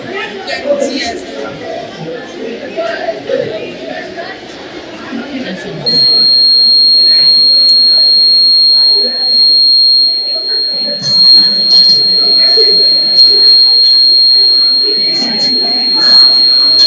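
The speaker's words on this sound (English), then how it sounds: "when the water is getting filled in the tank, the buzzer in the LED gets activated as the water is being filled" A buzzer on a student's water tank fill-level project sounds as a thin, steady high tone that starts partway through, heard under crowd chatter and talk at a busy education fair.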